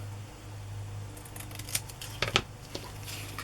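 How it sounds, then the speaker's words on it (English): Scissors cut a paper journal tag in half, giving a few quick crisp snips close by over a low steady background hum. "But I can cut this in half"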